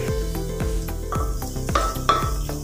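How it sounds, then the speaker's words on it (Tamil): Onions frying in a pan for Tamil fish curry (kuzhambu), sizzling steadily up close while a utensil stirs and scrapes in regular strokes, with a few sharp metallic clinks. "நல்லா செவக்க வறுத்துக்கலாம். வெங்காயம் நல்லா செவந்து வரட்டும்."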